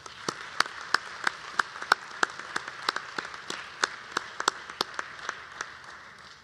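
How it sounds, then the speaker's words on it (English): Scattered, sparse clapping from a small graduation audience at an Owens Community College spring commencement, with distinct individual claps ringing out steadily at moderate distance. "Let's give all of our Owens faculty and staff a round of applause."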